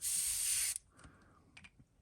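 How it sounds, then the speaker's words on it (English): A short, sharp hiss of an airbrush test-spraying paint for under a second, then stopping, followed by a few faint clicks of the tool. "Let's go ahead and just give it a little test spray."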